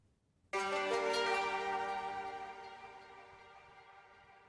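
A single struck chord rings out on a tar, a Middle Eastern long-necked lute, after a moment of silence. It sounds bright and metallic, then slowly decays over several seconds, heard alone.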